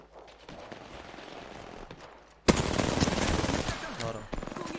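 Rapid automatic gunfire in the Apex Legends video game, fainter at first and then a loud, dense burst of shots halfway through, with a player's voice briefly heard.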